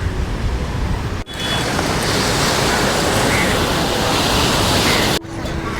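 Steady roaring surf fills the whole stretch at the seashore in Malvan on the Konkan coast, a broad rushing wash of waves with wind buffeting the microphone, briefly cut twice.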